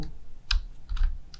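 Brief keystrokes on a computer keyboard while working in After Effects, a couple of quick separated taps, close and fairly quiet with no talking.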